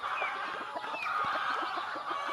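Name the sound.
buff Orpington chickens, two months old, clucking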